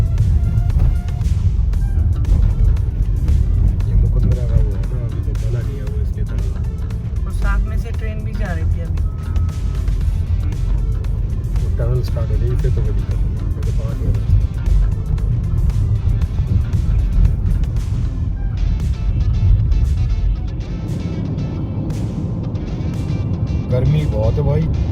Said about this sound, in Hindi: अब उतना 15 की स्पीड पे गाड़ी चल रही है।